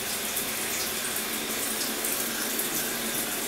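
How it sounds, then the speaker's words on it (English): Water runs steadily down a shower drain, a constant broadband hiss and splash that stays even and close without pauses or voices. "So it's draining good."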